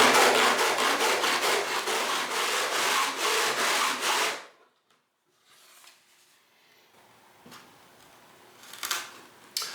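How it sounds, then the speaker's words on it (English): Sanding off chalk marks on a wooden guitar heel block, a loud, steady rhythmic scrubbing of rapid strokes for about four seconds, then near quiet with faint scattered handling noises and a small bump near the end. "with all my chalk marks sanded down"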